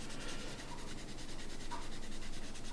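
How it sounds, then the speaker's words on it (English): Hand sanding with sandpaper on a 1/12 scale Model Factory Hiro kit of the 1971 Le Mans-winning Porsche 917K: soft, quiet, rhythmic rubbing strokes close by, with no one talking. "So again, I sand a bit, I clean it off, and I look at the work"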